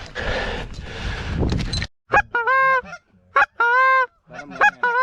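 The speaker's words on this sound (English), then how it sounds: "Birds are coming." Geese honk repeatedly and loudly in a goose hunting setting as birds fly in, clear bursts of calls following a stretch of rustling wind-like noise.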